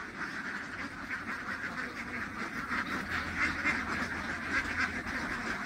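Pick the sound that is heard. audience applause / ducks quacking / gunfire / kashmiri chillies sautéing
ducks quacking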